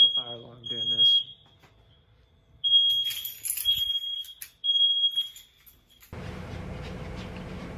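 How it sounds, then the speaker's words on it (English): A smoke alarm shrills in loud repeated high beeps separated by pauses, with a brief voice at the start. It ends in a burst of broadband noise. "why do we have a fire alarm during this?"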